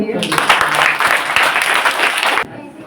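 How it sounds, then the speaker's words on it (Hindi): Audience applause for a guest, a senior leader being welcomed at a school gathering, with dense clapping for over two seconds before it cuts off sharply, a voice faintly audible beneath. "सर तालियां होनी चाहिए।"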